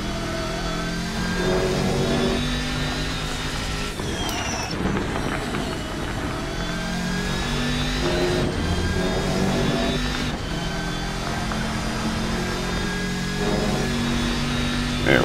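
Racing car engine in a video game lap, a steady mid-pitched drone that rises and drops with repeated gear shifts and revving through corners, continuous and fairly loud with no talk.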